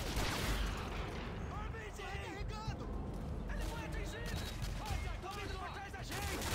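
Frag grenades explode in Modern Warfare 2 amid dense gunfire and battle noise, a continuous chaotic roar of blasts and shots with brief voice fragments.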